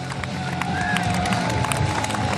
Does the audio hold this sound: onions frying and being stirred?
no